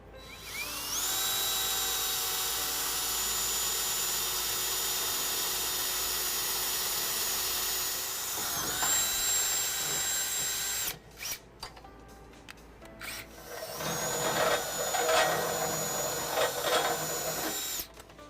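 A power drill bores a 1/2-inch hole in the frame of a 2011 Ram 1500 pickup, whining loudly and steadily for several seconds, then slowing. Rough, uneven grinding and clatter follow, close up.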